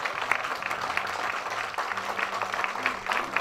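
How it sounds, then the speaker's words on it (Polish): A community gathering applauds an honoree receiving a new copy of a town chronicle, moderately loud, even clapping throughout. "brawa wielkie dla pani Gieni"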